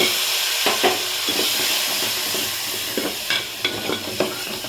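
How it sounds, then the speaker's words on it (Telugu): Tomatoes sizzle and fry in a hot tempering of spices, asafoetida and curry leaves, with repeated stirring scrapes and clinks of a spoon against the pan over a steady frying hiss. "టమాటోస్ వేసి కలిపాం కదా"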